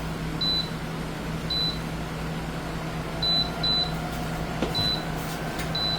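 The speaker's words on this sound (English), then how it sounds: "it's beeping because it says, hey, there ain't no pot up on here" A stovetop cooking unit with no pot on it gives short, high electronic beeps, about seven spaced irregularly, fairly faint over a low steady hum.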